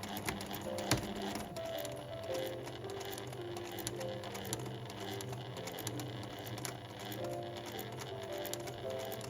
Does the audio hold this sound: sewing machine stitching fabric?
yes